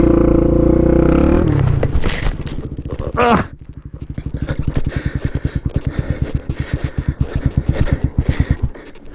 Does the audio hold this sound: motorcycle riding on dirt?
yes